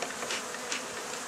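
Honey bees at a wild hive make a dense, steady buzz that fills the whole short moment close by, with no voices.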